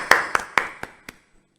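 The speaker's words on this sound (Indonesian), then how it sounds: "tepuk amin. tangan dulu." Five sharp hand claps in a slowing, fading sequence, close and distinct, with the last clap quieter, at a student association gathering.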